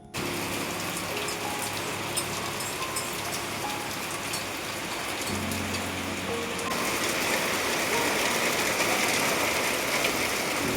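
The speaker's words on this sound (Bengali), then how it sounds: "এত ঝমঝমিয়ে বৃষ্টি নামলো" Heavy monsoon rain pours steadily outside, a dense, continuous hiss of drops on surfaces that swells slightly louder toward the end, with no voices.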